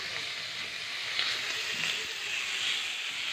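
Fish oil frying in a pan, giving a continuous, even sizzling hiss that stays steady throughout, close and moderately loud, with no speech.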